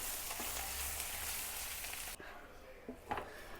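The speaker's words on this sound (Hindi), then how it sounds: "अब आलू और प्याज मसाले को अच्छे से मिला लेंगे।" Potatoes, onions and spices for a Karnataka-style masala dosa filling fry and get stirred in a pan, a soft sizzle broken by a few scraping stirs near the end.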